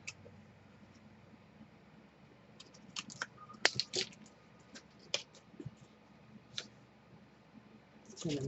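Paper being trimmed for a mini album, a series of quiet, scattered sharp clicks and snips close by in a hushed room, irregular and brief.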